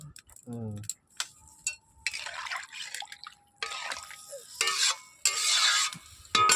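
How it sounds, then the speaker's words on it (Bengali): Fish curry broth boils in a pot on a home stove, giving irregular bubbling pops and drips with short hissing bursts, fairly close and quiet, with a voice heard briefly. "দেখুন ঝোল ফুটে গেছে"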